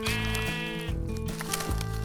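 Sheep bleating in the Minecraft video game, several synthetic bleats in a row, fairly loud and alone with no talking.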